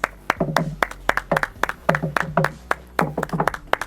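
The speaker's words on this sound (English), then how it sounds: "I think that requires applause." A few people clapping in a small room during a fitness workout session, sharp, close, individual claps in an uneven rhythm, alone without talk.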